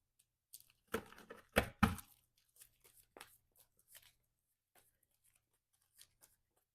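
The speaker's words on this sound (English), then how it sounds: "Let's shuffle up the encounter deck here" A deck of encounter cards for a superhero card game is shuffled by hand, quiet crisp riffles and slaps in a few short bursts, then scattered soft taps and rustles as the cards settle.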